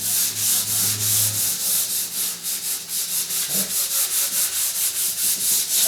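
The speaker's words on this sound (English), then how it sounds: "I like to go vertical on sanding rather than horizontal or circular" Steady rhythmic vertical sanding strokes on a wooden door panel, a repeated scratchy rubbing back and forth at an even pace, close and fairly loud.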